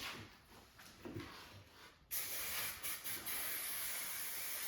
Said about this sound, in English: So I just spray all around it,